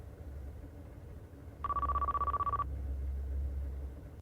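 An incoming call rings in a 1999 Jaguar S-Type car phone, a single burst of rapid electronic trilling about one second long, clear and moderately loud over a low cabin hum.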